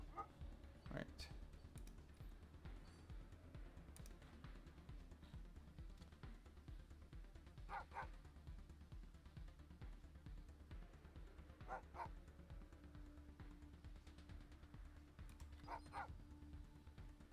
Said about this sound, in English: Have they even armored the dogs?